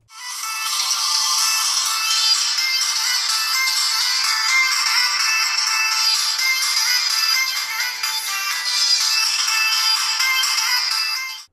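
A budget phone plays a ringtone through its loudspeaker, a bright, thin, steady melody looping for about eleven seconds with no low end.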